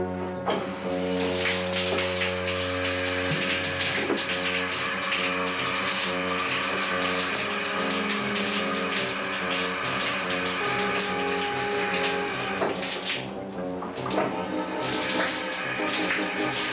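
Shower water running steadily in a bathroom, a continuous close hiss and splash with a faint hum beneath, no voices over it.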